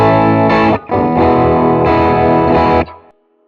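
Electric guitar played through a Walrus Audio Messner overdrive pedal with the gain set around 75%, giving thick, distorted, sustained chords that ring loud and full for about three seconds, then cut off.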